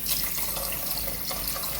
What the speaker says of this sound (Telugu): సో ఇప్పుడు వాటర్ వేసుకోవాలి.